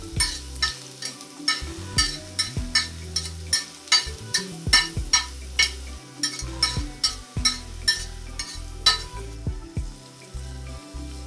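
Finely chopped onions hit heated cooking oil and fry with a steady sizzle, punctuated by regular clinks of a utensil stirring against the pan, over low background music.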